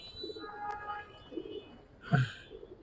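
In a loft, giribaz pigeons give soft, brief coos, low and muffled, with one fuller coo near the end against quiet background noise.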